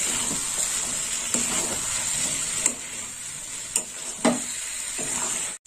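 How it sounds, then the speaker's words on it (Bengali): Prawns and potatoes are stir-fried with spices in a pan, a steady high hiss of sizzling oil under occasional spoon knocks and scrapes, close and even, with no talking. "এবার চিংড়ি মাছ আলু মশলার সাথে কষে নেব।"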